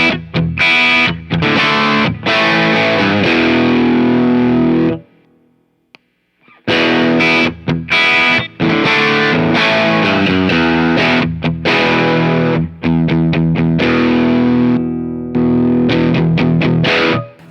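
Overdriven electric guitar played through a Visual Sound Open Road overdrive pedal, with heavy bass, chords and riffs ringing loud and close; the playing stops briefly near the middle, then resumes.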